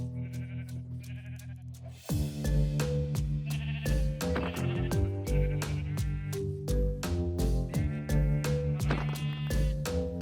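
Sheep bleating in Minecraft, a run of short repeated game bleats over steady background music, loud and close, starting after a quieter opening.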